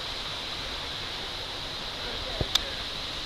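Cooper Brook flowing beside a trail lean-to in the 100 Mile Wilderness on the Appalachian Trail, a steady, even rush of water with a couple of sharp clicks near the end.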